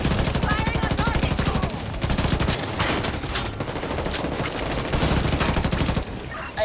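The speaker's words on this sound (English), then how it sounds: "Move! Get to cover! Firing on target!" Rapid automatic gunfire and bursts of shooting from a combat firefight in the video game The Division 2, dense and continuous throughout with game effects layered in.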